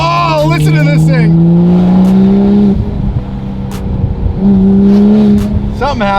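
A widebody 2020 Toyota Supra with an exhaust pipe that has popped off, leaving it effectively straight-piped, revs loudly up and down close by, its raw engine note rising and falling in pitch as a person talks over it.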